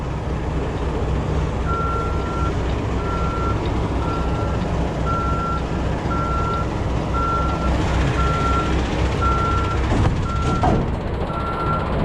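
A truck's steady reversing beep repeats at an even pace over a loud, rumbling idling engine, close by, as it backs uphill under a trailer to couple.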